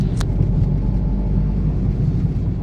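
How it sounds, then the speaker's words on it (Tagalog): A Hyundai Accent with a sluggish, overheating engine accelerating on a road test, giving a steady, loud low engine and road rumble from inside the cabin with no talking. "mag-road test muna kami ni customer kung matulin na ba itong sasakyan niya at hindi na ba siya nagiinit"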